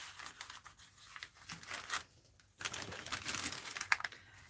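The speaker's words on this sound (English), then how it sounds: "Now, let's cut this page." Paper art journal page being cut, with crisp crinkling and snipping bursts in quick irregular runs, a brief pause midway, then more close, fairly quiet cutting.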